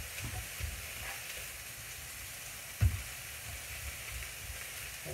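Steady crackling sizzle of ground meat frying in a pan, with a brief louder clatter near the middle and low rumbling underneath.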